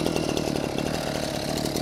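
A Japanese brush cutter's small two-stroke engine running smoothly and steadily at close range, a dense even drone with no talk over it.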